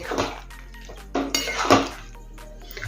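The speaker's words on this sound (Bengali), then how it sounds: "আবারও সমস্ত উপকরণ ভালো করে নেড়েচেড়ে মিশিয়ে নেব" A utensil stirs and scrapes chilli chicken gravy, thickened with cornflour slurry, in a metal pan; irregular clinks and scrapes come in short bursts, fairly close and moderately quiet, with no talk.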